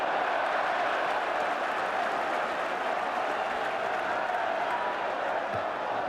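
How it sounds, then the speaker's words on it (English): A football stadium crowd applauds and roars after a goal, a dense, continuous wash of clapping and noise from many people that holds steady throughout. "Goal has certainly woken up the crowd."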